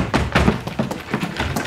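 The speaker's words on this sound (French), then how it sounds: "Ce sont des garçons à moi qui essaient d'enfoncer la porte." Men forcing a door: a series of heavy, repeated thuds and bangs in quick irregular succession, loud and close, with some clattering between blows.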